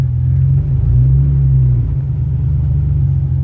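A Toyota Tacoma's 4.3 liter engine runs cold while the truck backs up, a steady close low rumble with a slight swell in revs partway through.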